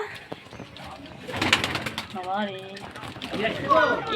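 Pigeons coo at a pigeon house, a few rolling coos close by, mixed with people talking and general outdoor bustle.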